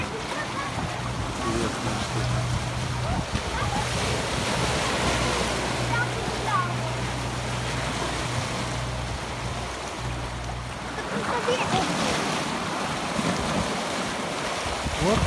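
Atlantic ocean surf at low tide on Praia do Castelo beach in the Algarve, a continuous broad wash of breaking waves mixed with wind noise, with no voices.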